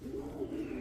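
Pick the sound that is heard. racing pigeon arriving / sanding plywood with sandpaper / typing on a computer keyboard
racing pigeon arriving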